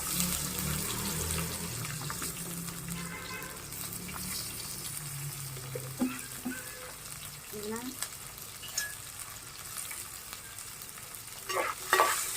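Chopped onions with cumin seeds fry in hot oil in a pan, a steady soft sizzle with occasional stirring scrapes and clinks, fairly quiet and close, with no talk over it.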